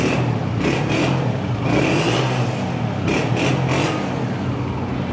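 A Honda 125 motorcycle engine, a 2020 model, runs close by, a steady mechanical drone with a few brief revs rising and falling, no voices.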